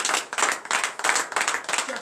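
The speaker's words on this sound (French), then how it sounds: "Donnez de vive acclamation." A church congregation at a morning prayer service in Benin claps in loud, rhythmic unison, sharp beats about every third of a second, with voices mixed in beneath the clapping.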